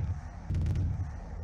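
Cluster explosions in the video game Boxhead 2Play: a low, rumbling string of booms with a brief sharper crackle in the middle, dense and continuous over a short stretch.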